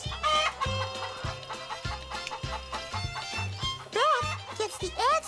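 Chickens cluck inside a farm chicken coop where hens lay eggs in nests. Steady clucking and crowing sounds sit over a rhythmic musical backing, with several louder squawks toward the end.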